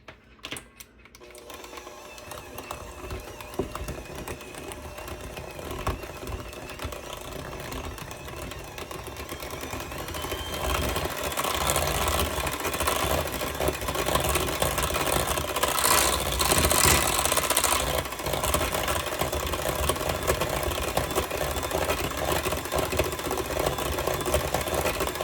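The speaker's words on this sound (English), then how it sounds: "And I have my mixer here." An electric hand mixer whirs steadily through a cranberry jello salad in a home kitchen, starting after a brief quiet moment and growing louder and busier midway, a continuous mechanical buzz with no talking.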